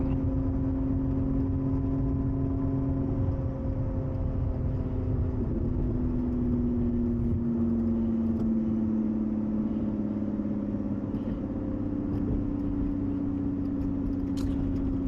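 A Lotus Emira V6 sports car cruises along a road, heard from inside as a steady low engine drone with tire and road rumble, a slight pitch shift midway, and no talking.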